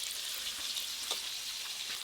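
Fish fries in oil, a soft, steady hiss of bubbling fat with faint scattered crackles, quiet and without talk.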